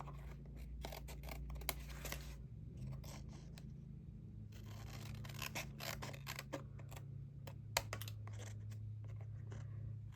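Scissors trim patterned paper for a handmade card, giving repeated quick snips and crisp cuts in uneven bursts over a low background hum.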